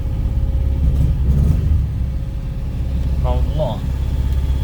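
A Saab 96 barn-find car engine runs at a steady low rumble while being parked, with a person talking over it throughout.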